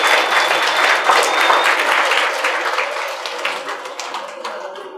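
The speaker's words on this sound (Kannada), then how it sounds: "ಸೊ ಜೋರಾಗಿ ಚಪ್ಪಾಳೆ ಧ್ಯಾನಕ್ಕೆ, ಜೋರಾಗಿ ಚಪ್ಪಾಳೆ ಜೋರಾಗಿ" Loud, dense applause from an audience at the close of an Anapanasati meditation class held at the Lions Club in Sidlaghatta, sustained for several seconds and tapering slightly toward the end.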